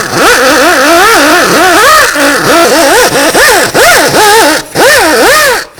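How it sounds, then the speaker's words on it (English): A die grinder whines against a rusty brake hub on a 2003–08 Toyota Matrix during a front brake job, loud and close with the pitch rising and falling as the load changes, and several short dips. "if you have a die grinder, just grind some of the rust away"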